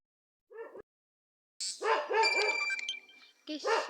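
Dogs barking nearby at a home, a short yelp followed by a sustained run of loud, close barking, then a fresh burst after a brief pause.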